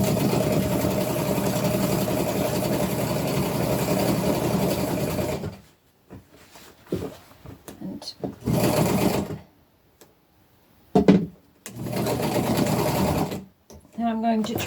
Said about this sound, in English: I'm going to come and sew the bottom side of the elastic the same way